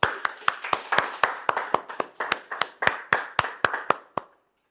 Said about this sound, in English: So please give yourself a round of applause for that.